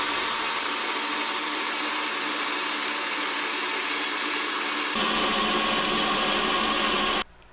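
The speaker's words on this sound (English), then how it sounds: "these aren't the easiest to drill, because you're actually drilling through 3 layers of metal" A power drill bores out spot welds through three layers of metal on a Mercury Sable rocker panel, a loud, steady whine nearby that shifts in tone partway through and then stops abruptly, with no talk.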